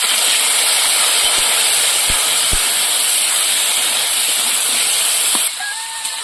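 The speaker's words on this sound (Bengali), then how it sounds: "কচুটা হালকা ভেজে নিয়েছি" Taro pieces frying in oil in a wok in a village kitchen, a loud continuous sizzle with a few soft knocks, dropping abruptly to a quieter hiss near the end; no one speaks.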